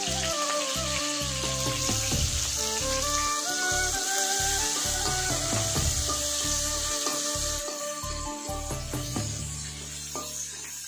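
Chopped onions frying in hot oil in a kadai (wok) while chili paneer is being cooked, giving a steady sizzle under continuous background music with no talking.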